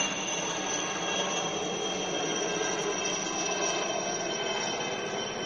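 An Indian Army helicopter passing overhead gives a steady, loud, broadband roar with a whining edge that stays even throughout, with no talking.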